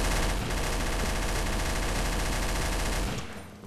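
Rapid automatic gunfire in the video game Trouble in Terrorist Town, a loud continuous burst of shots lasting about three seconds before cutting off and fading.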